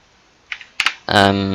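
A few quick keyboard key clicks, then a sustained tonal sound starts and holds steady.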